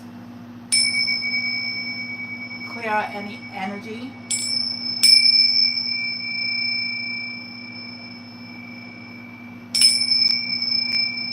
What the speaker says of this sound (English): I'm going to start off with my bells.